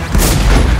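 Heavy grenade launcher fire in a first-person shooter video game, a loud, continuous booming blast filling the whole short moment with deep rumble and broadband crackle.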